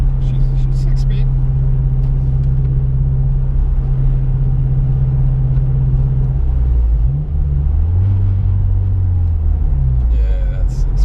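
Mazda Speed3 with a six-speed manual cruising in fourth gear, a loud steady low engine drone and cabin rumble that shifts pitch near the end, with people talking inside the car over it.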